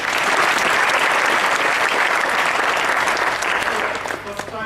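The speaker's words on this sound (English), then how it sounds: "So give them a big round of applause." Audience at a student meetup applauding, dense sustained clapping from a crowd that stays loud throughout and begins to thin out at the very end.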